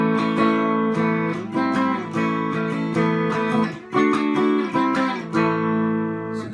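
Acoustic guitar strumming the interlude chords of a song, with an A shape and lifts on the second string, ringing clearly and alone in repeated rhythmic strums.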